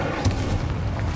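A fire spell cast in the video game Hogwarts Legacy, heard as a short booming thump that bursts near the start and then fades into a low rumble. A game score plays underneath.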